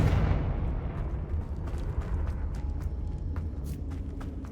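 The Confringo fire spell in Hogwarts Legacy sets off a deep explosive blast that starts loud and rumbles down into a long low decay with scattered crackles, alone without talk.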